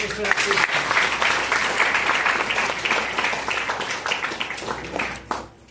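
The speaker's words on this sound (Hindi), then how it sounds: "मैं चाहूंगा उसके सम्मान में तालियां हो" An audience at an RCM business seminar breaks into continuous, even applause, a thick wash of many hands clapping at steady volume that tapers off with a last few claps.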